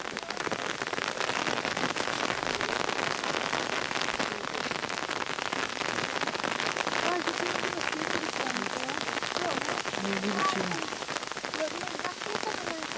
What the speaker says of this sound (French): Ce soir il pleut comme vous le voyez.